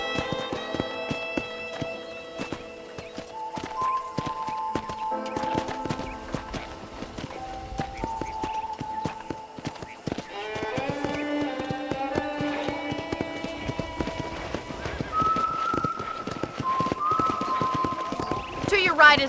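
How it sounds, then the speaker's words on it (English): Horse hooves clip-clopping at a trot in the video game Red Dead Redemption, a steady moderate rhythm under in-game dialogue and a string-led music score, with an occasional faint whinny. "I picked out a fine horse for you."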